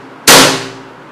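A Colt 1911 blowback airsoft pistol fires a single sharp, loud crack with a short metallic clang of the slide, standing alone against a quiet background and fading over about a second.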